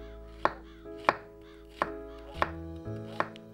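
A knife slices thick pieces of onion on a cutting board, making five crisp, evenly spaced chops close to the microphone over a quiet background, with no speech.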